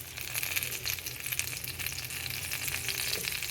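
Stuffed chilies and eggplant fry in a small amount of oil in a pan, with a continuous close sizzle and light crackling throughout and no voices.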